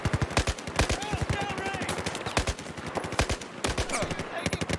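Rapid automatic gunfire from the Battlefield 4 video game, dense repeated bursts of shots filling the scene at close range with brief gaps, with faint talk mixed underneath.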